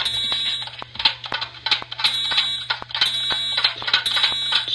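A school fire alarm blares close and continuous, its harsh repeating tone pulsing about once a second over a low background hum, with no voices.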